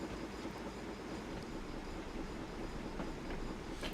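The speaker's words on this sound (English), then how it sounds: "Oh, another passenger train." A passenger train rolls past on a Scottish line, a steady distant rumble with faint wheel clatter, carrying on without a break.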